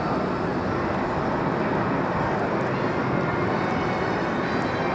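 Boeing 787-9 jet at JFK airport, heard as a steady, loud broadband jet roar sustained throughout with no break, a continuous rushing engine drone close by.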